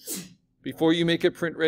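A single short, sharp sneeze bursts out first, followed after a brief pause by someone speaking steadily up close.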